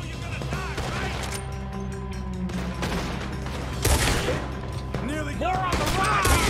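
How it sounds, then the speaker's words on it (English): Gunfire from a Red Dead Redemption 2 shootout rings out as sustained, dense volleys of shots over a steady rumble, with a louder burst near the middle and shouted voices mixed in throughout. "Looks like we're shooting our way out of here, fellas!"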